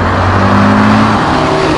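Audi RS Q3 with a 400 hp five-cylinder engine, heard as a loud, sustained, close engine roar with a steady throaty drone throughout and no speech.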